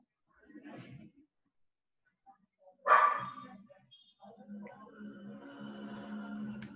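Distant dogs bark in a quiet street setting, a few faint barks first, then one louder bark, followed by a low background hum and murmur.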